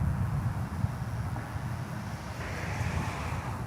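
An airliner arriving from Denver on approach at DFW airport, a steady broad engine roar and rumble heard from a distance, continuous with no talk.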